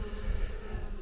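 Calm honeybees buzz around an open hive on a farmhouse property, a close, continuous droning hum with no voices.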